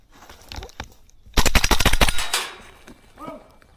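An airsoft gun fires a rapid full-auto burst of sharp cracks outdoors near a barn, after a few scattered single shots, followed by a faint brief voice.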